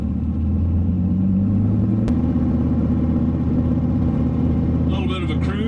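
A 2014 Dodge Viper cruises along with a steady, deep engine rumble up close. The hum changes slightly in pitch partway through, and a voice speaks briefly toward the end.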